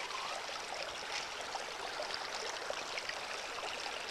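Water running steadily through a gold sluice set up in a stream, a continuous faint rushing and trickling wash with no voices.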